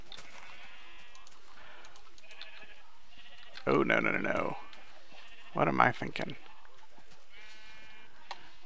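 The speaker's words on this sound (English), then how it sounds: "Now sheep are going to be getting loose and busting out all over the place." Sheep bleat in the video game Minecraft in two loud, wavering bursts a couple of seconds apart, set against quiet game ambience while someone talks between them.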